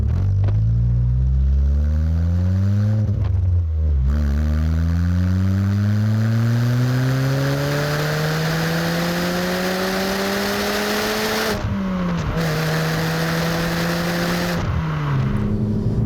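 A small four-cylinder engine in a Renaultsport Twingo 133 hatchback revs up repeatedly, rising in pitch through gears with brief drops between shifts, loud and close.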